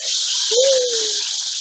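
Cut tomato sizzling in hot oil in a pan at medium heat, a steady close hiss, with a brief whistling tone rising and fading partway through.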